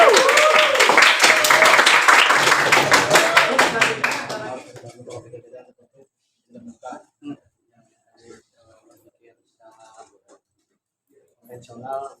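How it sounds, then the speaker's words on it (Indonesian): An audience claps in a classroom-style discussion, a dense burst of applause that fades out after about four seconds, followed by quiet scattered voices. "Kita beri aplaus untuk pendapat."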